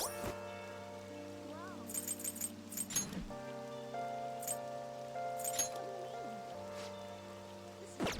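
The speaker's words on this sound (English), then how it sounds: "I heard the rain front is going to stagnate here for a while." Soft, steady rain patters in Persona 5, layered beneath sustained music tones and game sound effects, with brief bursts of chimes.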